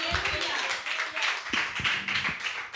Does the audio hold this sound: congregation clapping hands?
yes